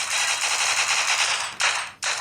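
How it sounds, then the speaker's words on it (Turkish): Rapid automatic gunfire fired into the air in a video game, a loud continuous burst that cuts out briefly twice near the end before resuming, no speech. "şuradan da mermilerimizi havaya tutalım"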